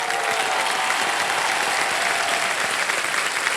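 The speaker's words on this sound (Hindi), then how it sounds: "इनकी तालियां सुनता हूँ, शोरगुल और खुशियाँ देखता हूँ" Steady, dense applause from a television game show studio audience on KBC, continuous and loud throughout with a faint crowd murmur underneath.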